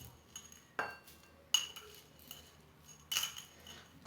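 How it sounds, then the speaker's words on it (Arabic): Cloves dropped into a bowl with thyme and other herbs give a few faint, sharp clinks and ticks, spaced apart in a quiet room. "وغادي ندير البنات القرنفل"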